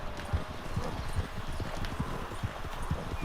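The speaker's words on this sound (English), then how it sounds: "Vai, cavalo." Horse hooves trot in Red Dead Redemption 2, a steady, rhythmic clip-clop of about eight soft hoofbeats heard alone over faint background ambience.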